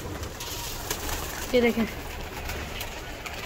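A short, soft pigeon coo sounds once, low and close, while a person talks nearby over light background noise.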